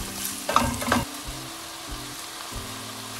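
Salt and turmeric fry in a pan for a Nellore-style stuffed brinjal curry. A couple of quick utensil clinks come early, then a steady low sizzle runs on alone.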